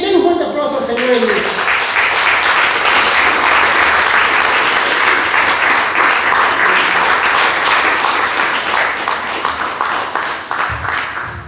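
A church congregation breaks into loud, sustained applause that fills the room steadily for several seconds, with voices mixed faintly into the dense clapping.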